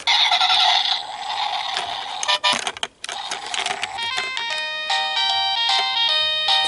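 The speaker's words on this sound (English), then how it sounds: "This is a little musical car." Small toy musical car playing a bright electronic tune of beeping notes, loud and close, with a short pause in the middle before the melody continues.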